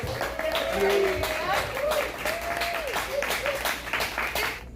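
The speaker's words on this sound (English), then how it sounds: "Let's give a hand to our host venue and our awesome bartenders." Audience applause at a poetry festival open mic in a bar venue fills the room with dense, steady clapping, while voices talk and whoop over it throughout.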